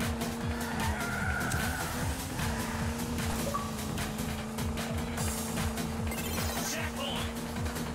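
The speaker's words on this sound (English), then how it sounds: "Exit a drift with a boost." Tires squeal steadily as a car drifts in the Hot Shot Racing video game, layered over a revving, pulsing engine note that wavers across the run, loud and continuous, with no talking.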